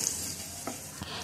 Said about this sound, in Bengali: আলুগুলো দিয়ে কিন্তু সামান্য একটু লবণ দিয়ে ভালোভাবে নেড়েচেড়ে ভেজে নিচ্ছি